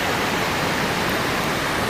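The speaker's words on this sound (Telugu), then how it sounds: "మనకి చాలా హెవీగా వాటర్ ఫ్లో అవుతుంది కదా, వాటర్ ఎక్కువ మొత్తంలో" The Duduma waterfall in Odisha roars with a heavy flow of water, a dense, steady rushing wash that fills the whole clip with no pauses and no voices.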